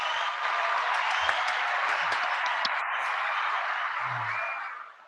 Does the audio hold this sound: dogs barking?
no